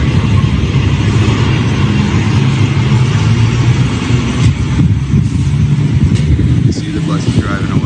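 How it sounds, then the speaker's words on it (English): A bus pulls away nearby, its mid-pitched engine drone and road rumble running loud and steady throughout, while a voice talks over it. "See the bus is driving away."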